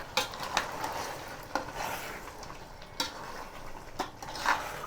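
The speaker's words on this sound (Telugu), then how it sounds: "ఒకటి చిన్న ప్యాకెట్ పెరుగు, కర్డ్, వేసుకొని ఒకసారి కలుపుకోవాలి." Chicken with curd being stirred together for Hyderabadi dum biryani, with soft scraping strokes and a few sharp utensil knocks against the pot over a faint background sizzle, close and moderately quiet.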